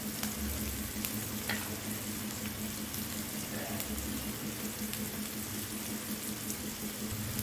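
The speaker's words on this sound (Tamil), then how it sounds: "இதெல்லாம் வெங்காயம் சிவந்து வர அளவுக்கு வதக்கி விட்டுக்குங்க." Onions sauteing in a pan produce a quiet, continuous sizzle with a low steady hum beneath it and occasional soft stirring scrapes, heard faintly and without talk.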